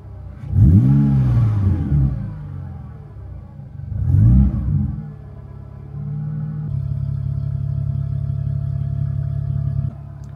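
A troubled BMW E36 3 Series engine revs twice in quick rising sweeps, then settles into a steady, slightly uneven idle that holds until near the end, close and moderately loud with no speech.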